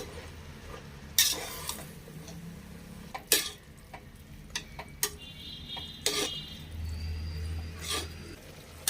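Finely chopped fenugreek leaves are stirred in a pan for pulao, with scattered sharp clicks and scrapes of a spoon against metal over a faint, steady sizzle, close by and fairly quiet.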